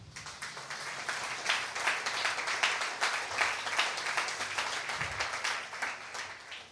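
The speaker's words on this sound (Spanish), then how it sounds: "Pues de otro aplauso al Señor." A church congregation applauding, many hands clapping in a steady patter at moderate volume, slightly distant.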